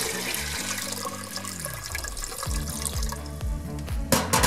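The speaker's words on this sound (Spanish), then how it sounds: "Luego agregamos agua." Water poured into a pot of corn with cloves and panela while making sweet mazamorra, a steady close splashing and running flow that stays fairly even throughout.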